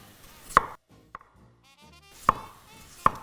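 Three crisp knife strokes slice vegetables finely on a board, potatoes and porcini for a zucchini-flower flan, spaced irregularly with quiet pauses between.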